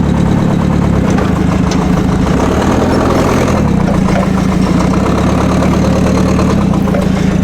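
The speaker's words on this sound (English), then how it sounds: "we're taking the forklift out here for a little bit of a spin" A Nissan 30 forklift engine runs loud and steady at idle, a heavy low rumble with a rough, knocking edge that carries on without a break, and no voices.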